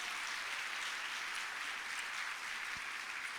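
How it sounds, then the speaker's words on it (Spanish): A church congregation applauds loudly at a family worship meeting, a dense, steady wash of clapping that carries on evenly throughout. "Fuerte ese aplauso a Jesús."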